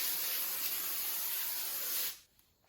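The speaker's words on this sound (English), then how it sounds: "you want to take your cooking spray and spray your pan" Cooking spray hisses from a can onto a foil-lined pan, one steady close spray lasting about two seconds before cutting off abruptly into near silence.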